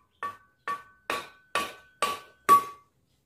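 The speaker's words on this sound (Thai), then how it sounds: "ใช้ค้อนยางครับค้อนยางตอกออก" A rubber mallet strikes the clutch drum of a Makita RBC411 brush cutter to knock it loose: six sharp, ringing metallic knocks at an even pace, close and clear with no talk.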